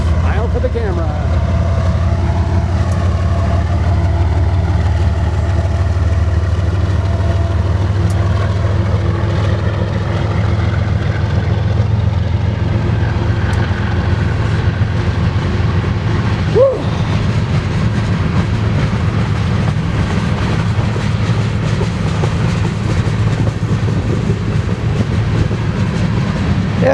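BNSF engine 5782 hauls an eastbound grain train past at good speed in Spokane Valley, a steady heavy rumble of locomotive and rolling wagons filling the whole stretch, with a brief sharp squeal partway through.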